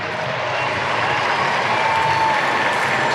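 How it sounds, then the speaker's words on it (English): Dense roar of a large crowd cheering and clapping along a Brisbane city street during a VP Day 50th anniversary parade, loud and sustained throughout with no break. "Just pause for a moment to hear that cheering."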